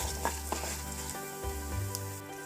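Ingredients for curry leaf pachadi frying in a pan, a close crackling sizzle with a few scraping stirs and a steady low hum of a stove or appliance underneath.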